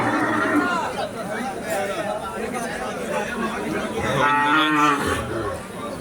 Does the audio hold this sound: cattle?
yes